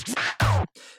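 A vinyl scratch sample, used in the drum drop of a music production, cuts back and forth in two quick, loud, sweeping strokes, then fades into a softer tail.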